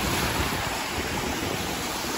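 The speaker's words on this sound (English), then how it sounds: "Looks like the wind is picking up for sure, because the waves are picking up." Waves wash onto a lake shore at a Great Lakes nature preserve as the wind picks up with whitecaps, a steady loud roar of surf and wind buffeting the microphone, with no voices.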